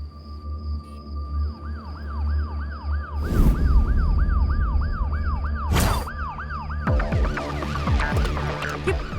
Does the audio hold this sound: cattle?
no